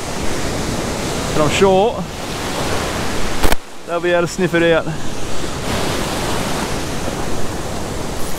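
White-water surf breaks along a beach gutter before dawn, a broad steady roar of waves with wind noise, while someone speaks briefly in the middle.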